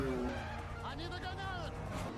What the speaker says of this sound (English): The owner of the farm chases him when his truck hits the highway.